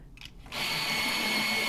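After a brief pause, a small electric pencil sharpener whirs on with a steady, high-pitched grinding hum that continues without a break.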